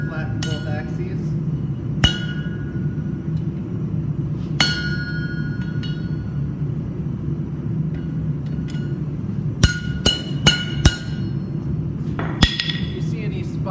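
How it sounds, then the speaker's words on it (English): Sharp metallic hammer strikes ring out on spring steel being straightened, a few spaced blows early on, then a quick cluster of taps later, over a steady low hum. "Hammer all the little divots out."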